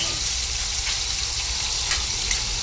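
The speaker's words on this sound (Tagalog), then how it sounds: "inuna na natin yung ating baboy. Medyo sangkutsahin muna natin." Pork sears in a hot pan as it is browned for a home-cooked vegetable and fish lunch dish, a steady, close sizzle with a crackling hiss and no voices.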